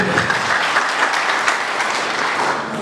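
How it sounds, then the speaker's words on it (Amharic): A church congregation claps together in loud, sustained applause that holds steady throughout, dense and continuous, easing slightly at the very end. "ከነጋ አጨብጭቡ ለዚህ ቃል"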